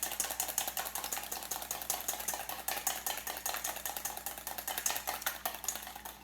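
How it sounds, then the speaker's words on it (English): A small whisk beats eggs in a bowl, making rapid, steady, evenly spaced clicking and scraping that continues without pause and without any talking. "I'm going to stir them up really quick, and I'll just use this same little whisk that I used in the flour."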